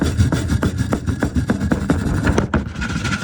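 A weld made without a welding mask being scraped by hand, a close, loud, rhythmic rasp of repeated strokes that briefly stops near the end and then resumes more softly.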